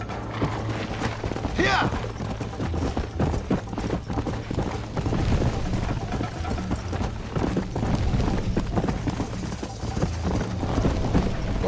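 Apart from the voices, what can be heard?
horse hooves in the video game Red Dead Redemption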